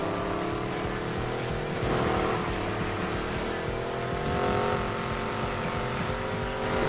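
Koenigsegg racing a lap in Need for Speed Payback, with a loud, steady engine roar that holds throughout and swells slightly at moments.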